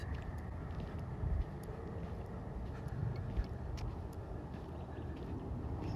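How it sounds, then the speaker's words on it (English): A car engine hums steadily as the vehicle passes somewhere behind, a broad low rumble that stays constant and moderately loud outdoors, with faint wind and distant background noise. "I hear an engine sound as this car drives by me, behind me somewhere."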